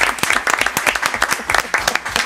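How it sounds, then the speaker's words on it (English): A crowd gives a round of applause at a civic ceremony, with dense, steady clapping that is loud, close and continuous throughout. "So I want to give them a big round of applause."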